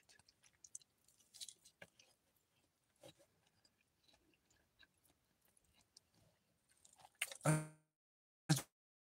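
Mukbang chewing and biting at a live eating stream: soft, scattered close-mic mouth sounds and small crunches throughout, ending in two louder, sharper bites near the end.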